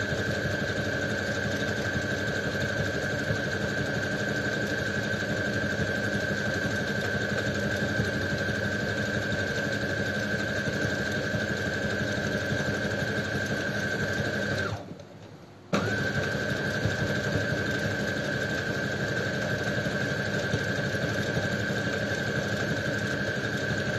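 A sewing machine stitching a wallet runs with a continuous steady motor whir, loud and close, stops briefly for about a second, then resumes at the same even pace.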